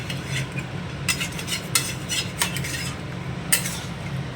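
Mutton curry is stirred in a pot with a spoon, making repeated scraping knocks of metal against metal about once a second over a low simmer.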